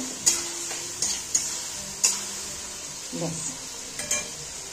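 Dry red chillies fry in a little oil for a mutton curry, a soft steady sizzle punctuated by several sharp taps and scrapes of a spoon stirring against the pan.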